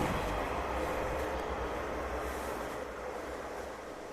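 A train rolls past behind a house beside a backyard vegetable garden, its steady rail rumble and wagon noise filling the scene at moderate volume before slowly fading.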